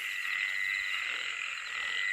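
A dense chorus of field frogs croaking continuously at night during frog fishing, a steady pulsing trill that stays even and fairly faint throughout, with no voices.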